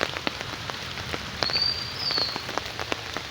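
Rain falling on an afternoon, a steady close patter of drops on surfaces with scattered louder splats and a faint high bird call partway through, no talk.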